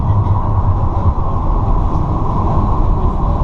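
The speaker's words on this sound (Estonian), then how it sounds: "Seda teed pidi sõidab see rong päris pikalt." A streetcar rumbles along a street in San Francisco's Mission District near Dolores Park and Church Street, making a steady, loud, continuous rolling drone throughout with no voices.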